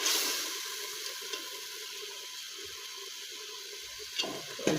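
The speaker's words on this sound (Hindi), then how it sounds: "इसको अच्छे से भून लेते हैं हम।" Beef trotter curry with turmeric and spices sizzles and fries in a pan, a steady close hiss throughout with a few small spatters and clinks near the end.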